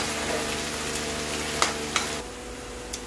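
Ginger, garlic and tomato paste sizzle in a pan with fried onion for a chicken curry, a steady, close hiss broken by a few faint clicks of stirring.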